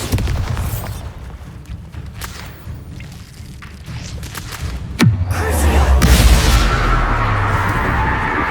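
A Bombarda spell detonates in Hogwarts Legacy with a sudden booming blast near five seconds, after a stretch of quieter magical combat noise, then a low rumbling roar and crackle that sustains loudly to the end.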